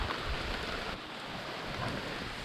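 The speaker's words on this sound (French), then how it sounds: "C'est le bruit de la pluie." Steady rain pouring on a tropical island in Thailand, a dense, even hiss of falling water at low level, with no voices.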